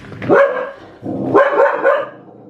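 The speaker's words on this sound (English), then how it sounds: "if there is a dog outside, she will bark" A dog barks indoors in a home, two loud, close bursts of barking about a second apart, with no talking.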